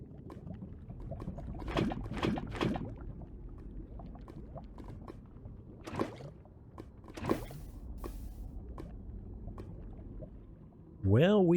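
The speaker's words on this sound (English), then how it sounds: "I've gone through a ton of buckets, picking up little source blocks of lava and some of the bigger pockets" Lava source blocks are scooped up with buckets in the Minecraft video game, with several brief, liquid bucket swooshes spaced out over a low, steady background, and a voice comes in at the end.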